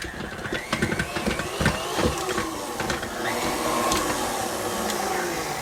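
An electric mixer whirs steadily as it beats almond honey nougat candy, a continuous mechanical drone with clicks and clatter from the bowl, and faint voices can be heard near the start.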